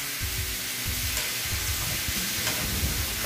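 Thinly sliced beef sizzles steadily in a pan while it is stirred, with soft scraping strokes repeating under the frying hiss.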